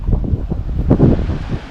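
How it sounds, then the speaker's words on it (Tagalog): Wind gusting across a beachfront resort in Zambales, a steady low buffeting rush that swells briefly near the middle, loud and close with no talk. "Pag ihip ng hangin galing doon dito, malamig po kasi"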